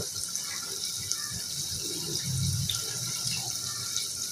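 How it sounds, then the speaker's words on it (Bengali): Hot water trickles and splashes into a pot of potato and pea curry, a soft continuous pour with a fuller gush midway, fairly close and without speech. "ঝোলের জন্য গরম পানি দিয়ে দিব"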